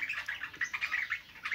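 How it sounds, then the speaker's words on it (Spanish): A large parrot calling at a bird breeding farm: a run of rapid, fairly faint chirping and squawking notes, close by, with no talking. "Creo que me lo voy a quedar a este pájaro."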